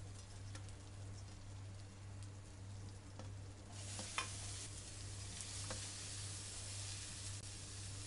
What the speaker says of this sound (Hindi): अब इन वेजिटेबल को फ्राई करेंगे हल्का सा बिल्कुल।